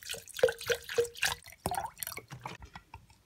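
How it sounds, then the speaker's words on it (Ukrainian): Room-temperature drinking water trickles and drips into a glass jar in short splashes, a few bright plinks followed by gurgling pours, close and fairly loud. "І заливаю питною водою кімнатної температури."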